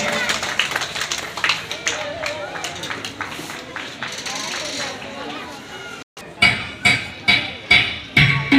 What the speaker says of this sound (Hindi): Come on, give a hand everyone.